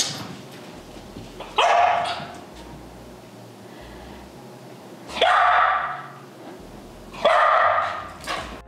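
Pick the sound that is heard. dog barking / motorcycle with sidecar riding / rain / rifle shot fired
dog barking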